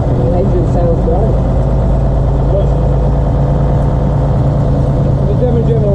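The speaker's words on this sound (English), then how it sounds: "But the engine sounds great." An old AEC Regal diesel bus engine idles with a low, steady rumble and throb, close and loud, while people talk over it.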